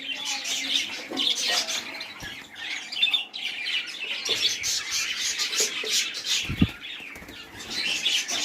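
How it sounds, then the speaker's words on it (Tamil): Lovebirds and pigeons on a small farm, with busy overlapping chirps, squawks and wing flaps close by, steady throughout with a few louder bursts. "முதல்ல லோபர்ட்ஸ் மட்டும் தான் இருந்துச்சு. இப்போ கொஞ்சம் புறாக்களும் இருக்குது."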